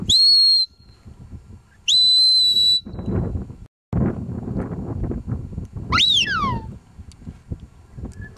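Sharp, high shepherd's whistles directing a Border Collie working cattle: two steady blasts, then a rising-falling call, over outdoor rustling and background noise.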